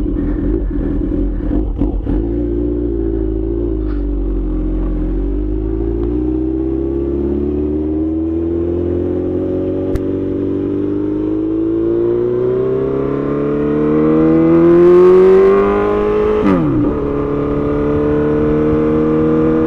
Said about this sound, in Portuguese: vamos ver o barulho da motoca aí também